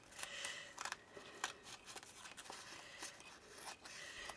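Close, crisp scissor snips cutting through thick card and lace, coming in uneven bursts with short pauses between cuts.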